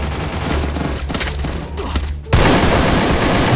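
Gunfire in the mobile battle game Free Fire, rapid loud bursts of shots with booming impacts that cut off sharply, then a dense, louder volley of shooting continuing to the end.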